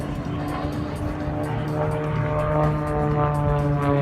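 Extra 330 aerobatic propeller plane performing a manoeuvre at the Paris Le Bourget airshow 2018, a steady droning engine and propeller roar held at constant loudness throughout, with a slight rise partway through.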